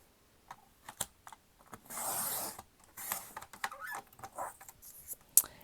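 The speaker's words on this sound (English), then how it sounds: "Let's cut off this strip here." Paper being cut into a strip for a handmade creative journal made from upcycled stash, a quiet run of crisp snips and rustles with a longer scraping cut near the middle and a sharp snip at the end, close and without talk.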